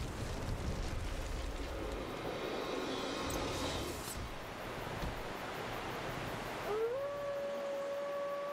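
Great Grey Wolf Sif in Dark Souls lets out a single rising howl near the end, clear and sustained, after a stretch of dense roaring wind-like noise and rumble.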